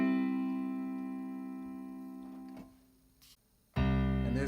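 A keyboard plays the right-hand part of a Christmas song with a sustained electronic tone that fades, followed by a brief gap, then a loud new chord enters abruptly.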